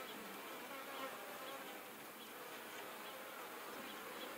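Honey bees in a horizontal hive hum steadily in a dense, close buzz that holds even throughout, with no voices.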